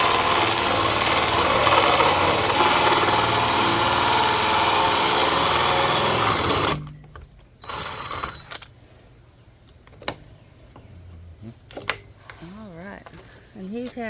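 A power drill whines loudly and continuously, boring holes for a hydroponic system, then stops abruptly, leaving faint handling clatter and brief voices talking.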